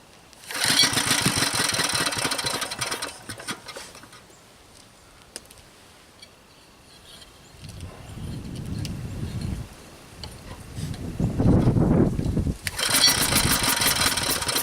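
A Briggs & Stratton engine on a David Bradley walk-behind tractor, choked, fires up and runs loudly. It falls to a quieter stretch, then two rising bursts of cranking or revving follow, and it ends running loud again.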